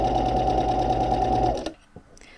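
An overlock serger stitches fabric with a loud, fast, steady mechanical whir, then stops abruptly, leaving a few soft clicks and handling sounds.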